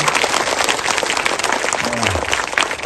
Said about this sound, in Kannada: ಒಂದು ದೊಡ್ಡ ಎಲ್ಲ ಚಪ್ಪಾಳೆ ಹೊಡಿದ್ದಾರೆ